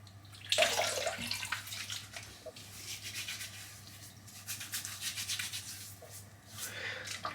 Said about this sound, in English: I'm just going to swirl this water around.